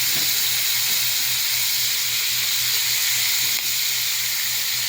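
Food sizzles on a hot grill pan, a steady, loud, close hiss that runs unbroken from start to finish, with no voices.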